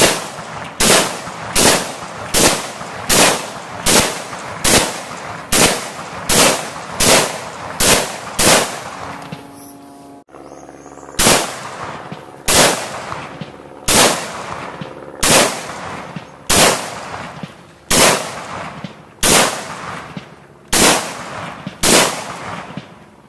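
Rapid rifle shots from a Huntertown Arms Kestrel 7.62 fitted with a suppressor, two strings of sharp loud cracks at an even pace, about ten in each string, separated by a brief pause.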